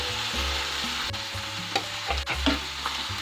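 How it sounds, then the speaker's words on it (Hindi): Tomatoes and finely chopped green chillies cooking in a pan, a steady sizzle with a low hum beneath and several sharp spoon scrapes and knocks as they are stirred. "टमाटर को सॉफ्ट होने तक पकाएंगे"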